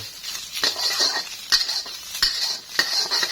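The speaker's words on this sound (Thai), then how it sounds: "ผัดกระเทียมให้มีกลิ่นหอมนะครับ" Garlic stir-fried in a pan, with a spatula scraping and clinking against the metal in a repeating rhythm over a soft sizzle, close and clear with no talk.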